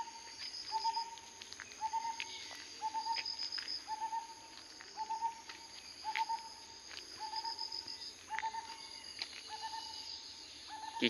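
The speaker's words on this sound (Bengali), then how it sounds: "চারিদিকে পাখিদের মধুর সুর আপনারা শুনছেন।" Repeated birdsong on a cloudy morning along a countryside road beside a brimming canal: short chirping phrases recur every second or so, moderately distant, over a steady insect-like hum.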